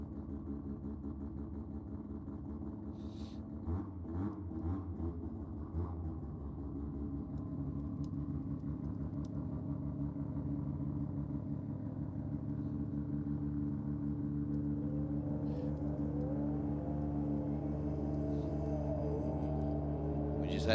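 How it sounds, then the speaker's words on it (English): Ford Mustang drag car rolling up the return road at a drag strip, a low engine rumble that swells steadily from quiet to louder as it approaches, with a brief revving burst early on. "Had the Mustang going up the return road now"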